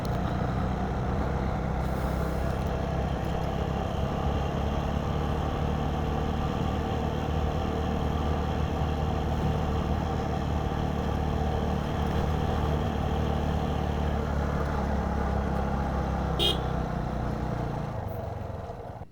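A motorbike climbs the hill road up Kundana Betta in rural Bangalore, its engine a steady, close, droning rumble that runs continuously for the whole stretch with no voices over it.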